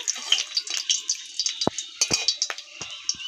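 Chillies fry in hot oil, a steady hissing sizzle dotted with sharp crackles and pops at irregular intervals, close and moderately loud with no talking.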